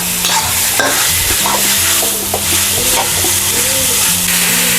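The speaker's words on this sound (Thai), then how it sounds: "ให้เราผัดพริกแกงกับขาหมูของเราค่ะ" Red curry paste and pork leg stir-fry in a hot pan with a loud, continuous sizzle and repeated scraping and stirring, over a faint tonal hum.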